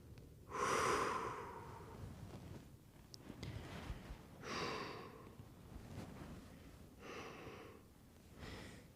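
Slow, deep breaths during a full-body flexibility stretch, each long inhale or exhale rising and fading in a steady rhythm, close and soft, with no talking.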